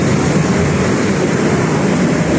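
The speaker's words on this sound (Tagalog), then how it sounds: "masyado maingay talaga dito sa Manila" A steady, dense roar of traffic noise on a busy Manila street, loud and unbroken, with rumbling engines blending into a constant wash of sound.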